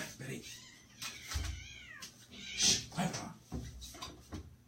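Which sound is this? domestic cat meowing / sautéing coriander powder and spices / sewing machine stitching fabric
domestic cat meowing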